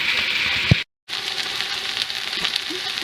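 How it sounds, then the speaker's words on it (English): Sliced okra (bhindi) sizzles and fries steadily in a pan over a high flame for a dry Punjabi masala, with a continuous bright hiss, a brief stir clatter, and a short drop-out before the sizzle resumes. "we'll continue to cook on a little bit higher flame, and high to medium flame, and continue stirring it so that it gets a little bit crispy"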